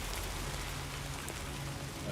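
Steady timefall rain in the video game Death Stranding 2, a continuous dense hiss of drops pattering on surfaces, fairly loud and unbroken with no voices.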